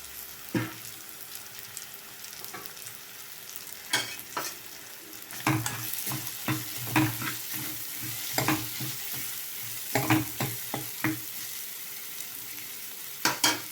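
Carrots and onions sizzle in a pan while cooking for a kuruma, a steady frying hiss broken by irregular scraping stirs against the pan, close up and without talking.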